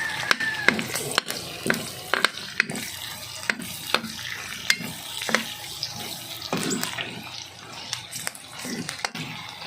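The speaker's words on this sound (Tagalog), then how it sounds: "igigisa ko na guys" Garlic and onion sautéing in a pan for Filipino dinuguan (blood stew), a continuous sizzle broken by repeated sharp clinks and scrapes of a spoon against the pan, close and fairly loud.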